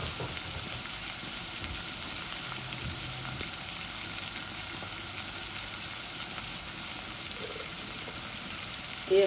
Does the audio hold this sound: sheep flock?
no